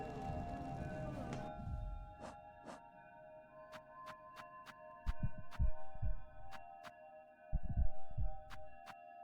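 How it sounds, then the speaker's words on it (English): Slow, steady heartbeat thuds from Hollow Knight: Silksong, loud paired low pulses pounding under a droning hum and a string of sharp ticks, with stretches of near-silence between beats. "I don't like that I can hear the heart beating"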